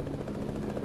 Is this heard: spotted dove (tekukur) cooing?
no